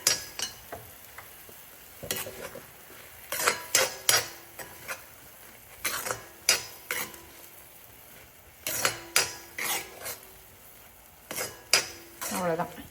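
A metal ladle scrapes and clinks against a pan while food is stirred on a stove at low heat, irregular sharp knocks and rattles in short bursts close up.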